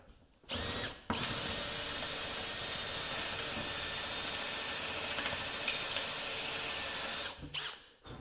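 A power drill fitted with a quarter-inch bit bores out a broken bolt on a GMC motorhome, a steady high-pitched whine held for about six seconds between brief starts and a stop.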